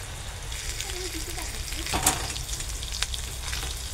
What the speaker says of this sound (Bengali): এইভাবে আমি পুরো মাছটাই ভেজে নেব।